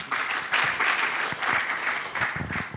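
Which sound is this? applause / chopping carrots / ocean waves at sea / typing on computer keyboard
applause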